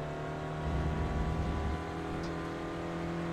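Simulated race car engine in iRacing at Donington Park, a loud, steady droning roar that swells slightly as it accelerates and then holds a sustained pitch, with no talk over it.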